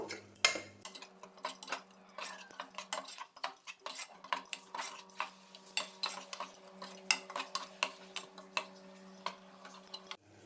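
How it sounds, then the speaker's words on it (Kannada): A metal spoon stirs and scrapes biryani masala frying in a pan for chicken donne biryani, giving a series of quiet, irregular clinks and taps over a faint, low hiss. "ಈಗ ಇದನ್ನು ಕೂಡ ಚೆನ್ನಾಗಿ ಫ್ರೈ ಮಾಡಬೇಕು, ಹಸಿ ಸ್ಮೆಲ್ ಹೋಗುವವರೆಗೂ ಫ್ರೈ ಮಾಡಬೇಕು."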